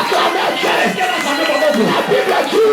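A congregation at a Sunday church service acclaims God, many voices cheering and shouting together in a steady, loud crowd roar that fills the whole stretch.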